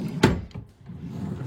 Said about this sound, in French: Alors, deuxième tiroir.